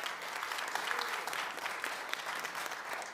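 Steady, dense applause from an audience at a youth forum on nuclear weapons policy, continuous and fairly even throughout without a break.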